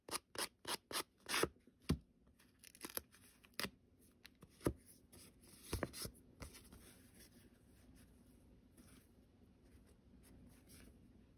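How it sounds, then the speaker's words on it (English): A sanding block rubs against the curved edges of paper tags, producing quick, crisp scratchy strokes in a rapid rhythm at first, then softer, irregular rasping that fades toward the end, close and quiet with no voices. "Simultaneously rub the block in a side and downward motion."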